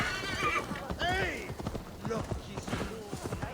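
A horse neighs and whinnies while its hooves clip-clop in Assassin's Creed Valhalla, with someone talking over the game sounds throughout.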